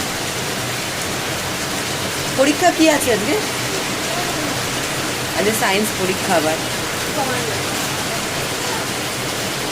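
Heavy rain pours down in a steady, loud wash, with two people talking briefly over it.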